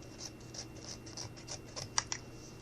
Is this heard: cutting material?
yes